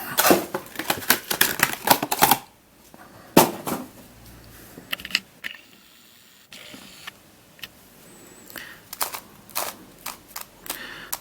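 A stiff corner-turning puzzle cube is twisted, producing bursts of close plastic clicks and clacks, dense at first, then a pause and scattered sharper snaps.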